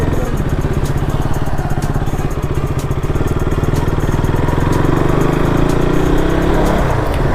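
KTM RC 200 motorcycle ridden on a main road, its engine a loud steady drone throughout, close and continuous, with some rumble and clatter from the ride.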